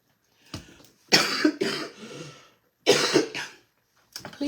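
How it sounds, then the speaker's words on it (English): A person coughs in several harsh, close bursts, grouped in two clusters with short pauses between them, then starts coughing again. "Please forgive me for coughing, but I cannot get rid of this cough."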